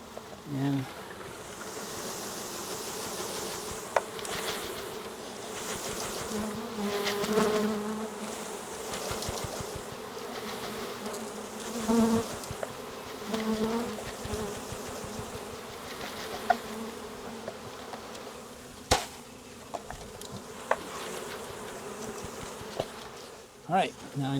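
Package honey bees swarm and hum inside a glass observation hive, a dense steady buzz held close throughout with occasional soft knocks and clicks of handling.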